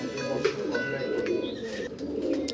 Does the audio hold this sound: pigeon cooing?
yes